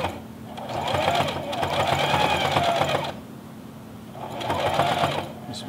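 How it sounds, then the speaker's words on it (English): A sewing machine races through fleece at full speed, its loud, continuous buzzing whir rising in two long runs with a brief slowdown between them. "This machine will sew very fast, so I'm going to floor it and let you see what the speed's like."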